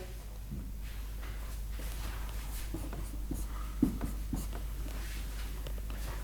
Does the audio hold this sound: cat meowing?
no